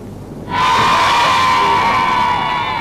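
A large crowd in Glasgow bursts into loud cheering and applause about half a second in, with whoops and shouts that hold steady and close for the rest of the stretch.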